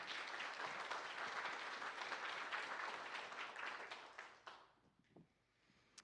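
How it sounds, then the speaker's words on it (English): Steady applause from the room at a city council meeting for a long-serving employee, full and continuous for over four seconds before tapering to a few last claps and quiet. "let's give her a round of applause"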